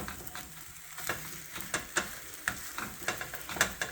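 An egg frying in a hot pan gives a steady close sizzle, broken by a light rhythmic scraping or stirring about every half second.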